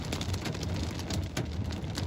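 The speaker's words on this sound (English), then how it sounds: "What you're hearing is pea-sized hail hitting the vehicle." Pea-sized hail pelts a vehicle during a windy Austin storm, a dense, continuous patter of hard impacts drumming loudly and close on the body.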